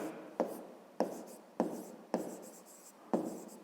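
A pen or pencil writes notes during a fifth-grade maths lesson, a series of about six quiet scratchy strokes, each starting with a sharp tap and fading, close and alone.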